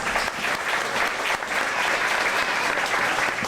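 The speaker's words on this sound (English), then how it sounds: "Let's give them both a big round of applause" Tram tour riders at a Disney studio backlot clap together in a full, steady round of applause that stays loud and even throughout.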